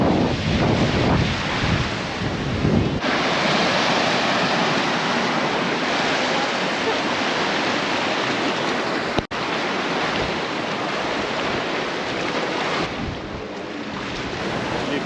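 Ocean surf with a strong current off Isla Mujeres, Mexico, roars as a steady, dense wash of breaking waves with heavy wind buffeting the microphone throughout and no talk.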